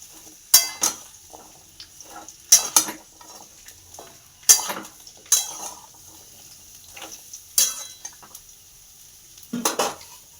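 Vegetable stalks cook in a wok with a soft background crackle, punctuated by repeated loud metallic scrapes and clinks of a spatula tossing them, about half a dozen bursts spread across the stretch; no voices.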